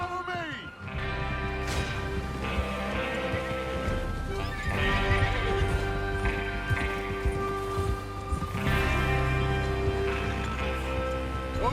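Horses in Red Dead Redemption 2 whinnying repeatedly over clip-clopping hooves, with several neighs rising and falling across the stretch amid trotting and ambient rustle, loud and close.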